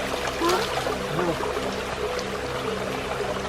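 Cold, clear stream water pours and trickles steadily at close range on an outing to Palakkayam Thattu, a continuous broadband wash with a few brief splashy accents and no talk.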